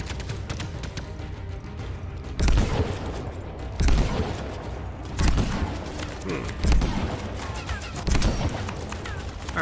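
Gunfire in the video game Anthem, a steady run of heavy weapon blasts repeating roughly every second and a half over a busy, noisy battle background.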